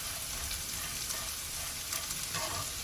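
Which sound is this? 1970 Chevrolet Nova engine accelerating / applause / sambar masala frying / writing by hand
sambar masala frying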